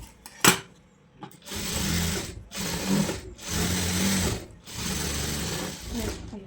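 A sewing machine stitches a lined blouse in four steady bursts of rapid mechanical whirring, separated by short pauses, with a voice faintly present in the background.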